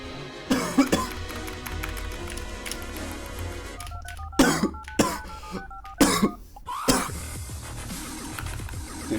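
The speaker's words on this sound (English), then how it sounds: "Dude, Ninur's making my cough worse, bro." Several harsh coughs and throat-clearing bursts come in irregular clusters over a livestream's background music and electronic tones, loud and close to the microphone.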